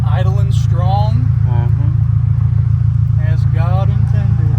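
Supercharged widebody Scion FR-S idling with a steady, loud low hum under the whole stretch, while people talk over it.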